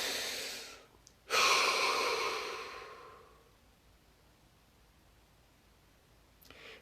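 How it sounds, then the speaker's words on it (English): A single deep breath drawn in sharply, then a long audible exhalation that fades over about two seconds, close and breathy, followed by near silence and a faint final breath. "Step 2 was the deep breath and exhalation."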